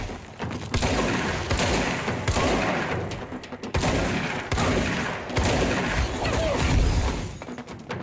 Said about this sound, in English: Why did it feel like the shotgun was doing nothing?